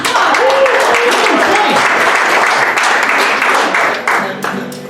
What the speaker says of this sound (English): How about another round of applause for Victor Cruz?